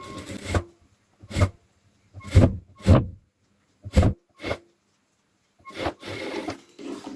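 A sewing machine stitches a blouse sleeve in a tailoring class, running in short separate bursts with pauses between them, close and fairly loud, with no talk over it.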